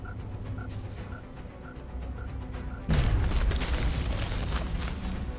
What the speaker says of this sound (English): Tina, we're bringing up a grenade right here for you. Grenade out.